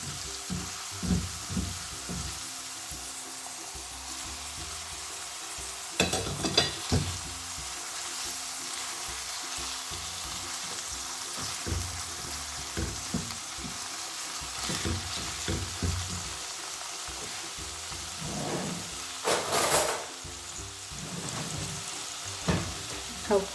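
Sausage sizzling in a pan for a creamy mushroom tagliatelle, with a constant fry hiss and repeated scraping and clinking as it is stirred with a fork.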